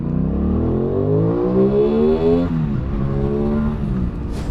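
An Aprilia Tuono 660 motorcycle accelerating hard through the gears, its loud, close engine note rising in pitch, dropping briefly at a shift, then climbing again.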